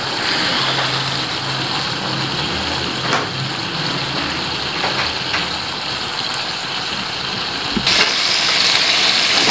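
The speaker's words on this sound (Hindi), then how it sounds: "थोड़ा सा ऑयल भी हम इसमें ऐड करेंगे, और बस हम इसको अच्छा सा फ्राई करेंगे।" Charsi tikka fries in a pan of oil over raised heat, producing a steady, loud sizzling hiss that runs unbroken throughout, alone without voices.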